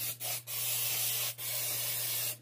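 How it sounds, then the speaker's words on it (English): Close aerosol baking spray hisses onto a cake pan in several quick bursts separated by brief pauses, steady and fairly loud, with no voices. "make sure you spray it all over."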